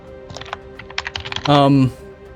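Fast typing on a computer keyboard, a quick run of crisp clicks close up, with a voice speaking over part of it and a steady electronic hum underneath.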